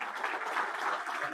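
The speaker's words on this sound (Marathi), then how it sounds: "आपण सगळ्यांनी मिळून पोलिसांकरता टाळ्या वाजवूया" Audience applause for Mumbai police at an event where recovered mobile phones were returned to their owners: a steady, dense wash of clapping from a crowd, moderately loud, with no pauses.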